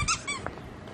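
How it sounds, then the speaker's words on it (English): A small dog on a seaside promenade in Santa Eulària, Ibiza, gives a brief high squeak, one short sharp burst followed by faint yelps against outdoor background noise. "Oh, that's a dog!"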